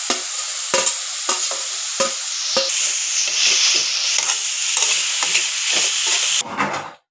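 Grated coconut being stirred into sautéed radish and tomato in a pan, a continuous close sizzle broken by repeated sharp scrapes and knocks of the spoon, ending abruptly; no voices.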